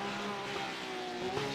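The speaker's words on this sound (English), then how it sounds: "Hear the wheels spin." GT3 race car engine whining with wheelspin on a wet track in a racing game, a steady, fairly loud drone with a few brief squeal-like rises, with no talk.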